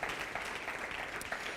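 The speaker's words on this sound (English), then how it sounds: "just give yourselves a really hearty round of applause" An audience at a business awards night gives a brief burst of dense, steady clapping, heard from a distance and fairly faint.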